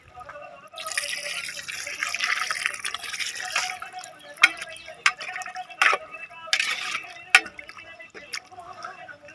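About 1.5 litres of water splashes into a cooking pot of rice and chicken for biryani, a steady pour for a few seconds followed by scattered drips and light clinks.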